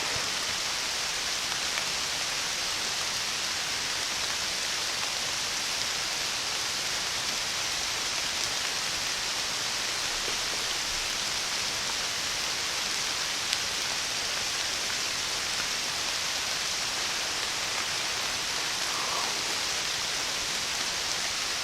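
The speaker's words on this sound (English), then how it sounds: "do I sit here and get rained on" Steady rain falls outdoors around a hunter on an archery hunt, a constant broadband hiss of drops on surfaces that stays even and unbroken throughout, with no voices.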